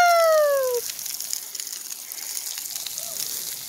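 Water sprays steadily at a splash pad on the Fourth of July, a continuous hissing gush heard close by, with a brief whistle-like tone at the start.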